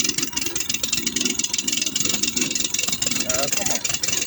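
A small Coleman minibike engine runs at full throttle in snow, a steady buzzing drone with a rapid pulsing beat, close by, with voices speaking over it.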